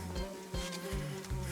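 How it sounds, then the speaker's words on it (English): A fly buzzing around low over a floor indoors, its faint drone rising and fading in short passes as it moves close to the microphone. "enjoy that fly flying around here, buzzing around on the floor"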